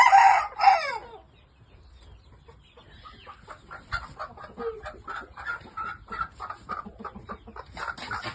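A shamo rooster from a German breeder crows loudly once at the start, then low clucks and scratchy fowl noises follow in an uneven, moderately close rhythm.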